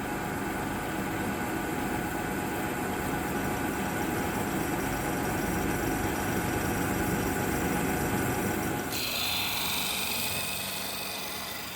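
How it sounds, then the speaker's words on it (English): A big belt sander shaping a wooden scabbard carved from construction lumber, running with a continuous motor drone and abrasive rasp, then shifting to a brighter, hissier grind near the end as the wood is worked. "Once the glue is set, we hit the big belt sander."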